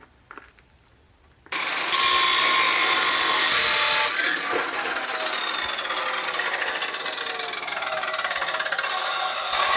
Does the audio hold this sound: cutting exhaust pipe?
yes